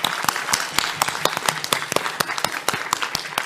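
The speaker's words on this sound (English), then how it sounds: "Round of applause, please." Applause from a live convention audience at PAX West, with sharp, fairly sparse individual claps standing out clearly and moderately close.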